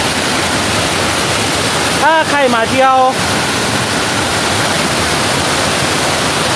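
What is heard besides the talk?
Sap Sa Kaeo waterfall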